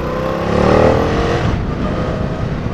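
A Suzuki V-Strom 1000 motorcycle engine pulls up through the revs as it accelerates on the road, heard close and loud under steady wind rush, with no talking.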